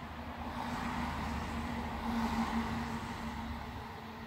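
Car traffic on Main Street in New Hampshire, a continuous broadband rumble and hiss of passing vehicles, moderately distant and steady, swelling slightly midway, with no voices.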